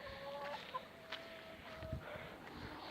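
Hens on a small poultry farm cluck in short, scattered calls at a moderate distance over a low background hum, with no talking.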